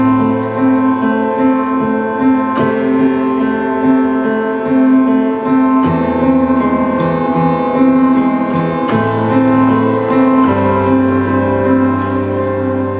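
Solo piano playing a chord progression from a song, with repeated struck chords every few seconds, a sustained low left-hand bass and a steady right-hand pattern, close and fairly loud with no voices.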